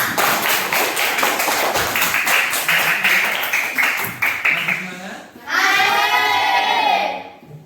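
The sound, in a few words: applause, clapping for the class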